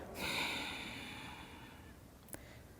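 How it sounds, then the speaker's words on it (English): A full exhalation during a yoga breathing exercise: one long, soft, breathy outflow that begins strongly and tapers off gradually, close and quiet, followed by a brief faint click, with no speech. "Exhale fully"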